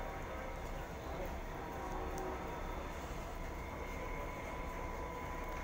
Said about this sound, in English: we'll have a Canberra service shortly arriving into platform number 1 here at Goulburn